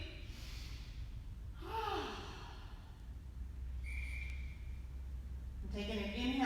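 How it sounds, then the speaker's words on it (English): Breathing in and out during a TRX workout, with audible sharp inhales and exhales and a short snort-like breath, close to the microphone over a low background hum. "I'm taking an inhale on the down, exhale, bringing it back up."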